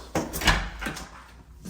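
A door in a house is opened with a few close, muffled knocks and a rattling thud, followed by a fading rustle; no speech is heard.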